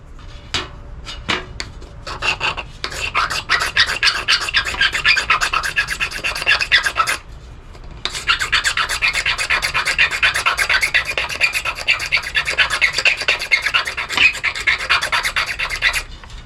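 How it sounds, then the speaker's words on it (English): Magnesium being scraped off a fire starter block, a close, loud rasping that starts with a few short strokes and then becomes fast continuous scraping, broken by a brief pause midway. "let's scrape some of the magnesium"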